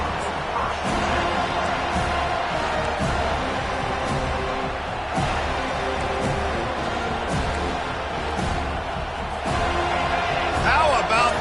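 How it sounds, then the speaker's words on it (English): A roaring football stadium crowd at an FSU vs Clemson game keeps up a dense, sustained wall of noise with scattered thumps, while commentators talk over it. "How about this crowd rattling the rafters and trying to help their defense?"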